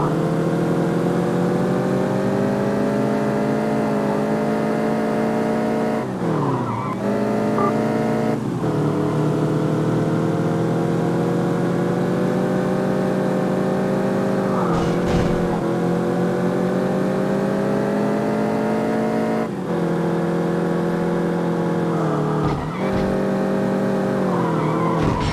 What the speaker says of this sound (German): Die anderen Motoren im Hintergrund